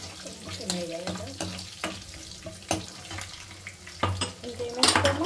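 Crushed garlic spits and sizzles in hot oil for a gongura chutney tempering, broken by utensil knocks against the pan and some quiet talk.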